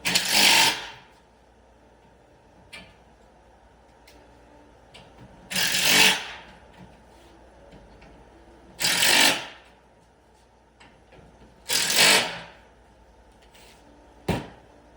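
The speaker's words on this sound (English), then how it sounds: "Now I will go down each side and tighten the other 3/8 fasteners." A power tool tightens 3/8 fasteners along the sides of an Aruba sling chaise being re-slung, giving four loud, close whirring bursts of about a second each, spaced a few seconds apart, with a shorter fifth burst at the end and no talking.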